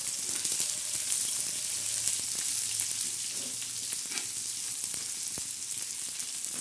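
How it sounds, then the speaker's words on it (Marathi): Onion is dry-roasted in a pan until dark, for a black masala used in a brinjal dish with bombil fish. It gives a soft, continuous sizzle with occasional light clicks from stirring and no voices. "आता हा कांदा कसा आपला चांगला काळा होणार आहे, म्हणजे याच्यातच मसाला आपल्याला भाजायचा आहे।"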